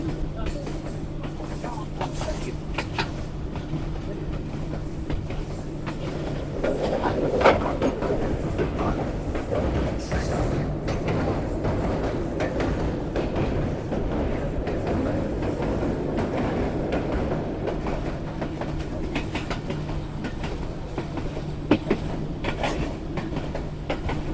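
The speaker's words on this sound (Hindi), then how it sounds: "तो ये ZCU20 थोड़ा सा जोर लगा रहा है इस वाली रेलवे लाइन पर।" A ZCU20 locomotive hauls the Sialkot Express on the line from Lahore to Sialkot, a steady loud rumble of engine and rolling wagons with faint clattering wheels throughout.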